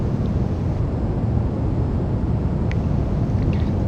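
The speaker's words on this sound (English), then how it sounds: "What you can hear right now is what is called brown noise, commonly, which I guess could be commonly thought of as white noise, and just meant to be like the engine noise" Steady brown noise stands in for aircraft engine and wind noise in a flight simulator game, a constant low rumbling hiss, loud and unbroken for the whole stretch.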